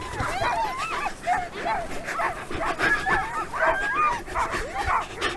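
A team of Greenland sled dogs yips, whimpers and barks excitedly in overlapping bursts before setting out on a polar run, a steady restless chorus of high whines and short woofs throughout.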